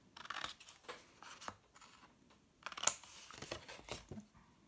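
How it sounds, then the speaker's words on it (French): Scissors cut bevelled flaps on card for a chocolate basket, with quiet, close snips and light paper rustling in two short bursts separated by a pause. "On va venir découper en biseau nos rabats pour que l'on puisse venir coller"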